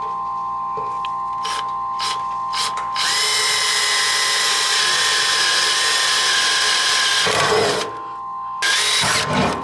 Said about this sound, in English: I need my drill, which is going to be a 1/8 drill bit.